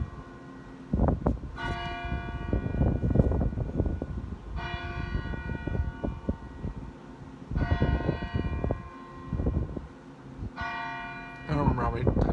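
Church bell ringing close by in repeated tolls, each strike leaving a bright ringing tone that slowly fades, with a person talking throughout underneath the bells.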